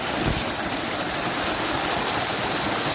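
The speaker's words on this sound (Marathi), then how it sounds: "धबधबा दाखवतो ना गाईजला" A waterfall in a forest roars in a steady, dense rush of falling water, loud and close, with no voices over it.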